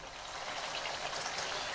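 Beef for a traditional home-cooked pasanda fries in a pan, giving a dense, even, rain-like sizzle heard up close for a couple of seconds.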